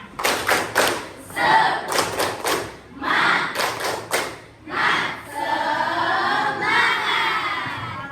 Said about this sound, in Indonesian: Oke, tepuk semangat dulu dong. Tepuk semangat.